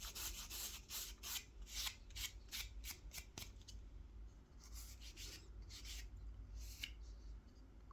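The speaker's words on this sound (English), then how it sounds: "So a little bit of coffee in my hand and just rub it in." A hand rubbing ground coffee into kolrosing carvings on a wooden spoon, giving a series of quick, close, quiet scrubbing strokes in rhythmic bursts, then a pause and a few more strokes.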